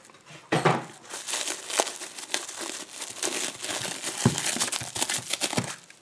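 Plastic packaging around a Yale lock crinkles and crackles as it is torn open by hand, a steady run of close, dense rustling with sharper snaps and tears throughout.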